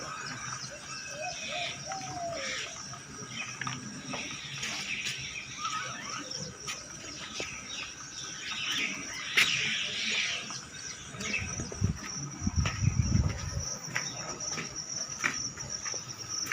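Morning birdsong in a rural Maharashtra setting: scattered chirps and short calls drift in at a moderate distance over a steady, constant trill of crickets and insects.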